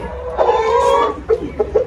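A chicken clucks nearby, a drawn-out cluck followed by three short, clipped clucks in quick succession.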